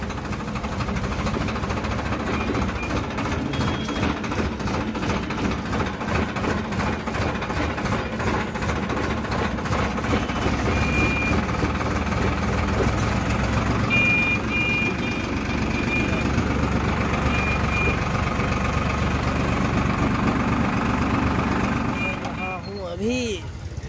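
A new Farmtrac Powermax tractor engine runs steadily throughout with a continuous low rumble and vibration, heard up close outdoors with faint voices mixed in.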